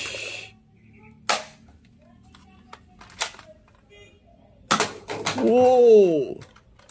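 A toy Nerf gun fires a handful of sharp, separate snapping shots spaced irregularly across several seconds, close and clear against near silence, with a rising and falling whistle-like tone near the end; a voice speaks between shots.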